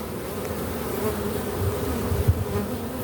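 Honeybees buzzing around an open hive during an inspection, a dense, steady close drone of many insects with slight swells in loudness and no talk.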